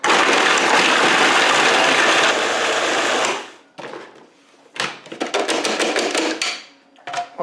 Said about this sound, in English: let's give this a whiz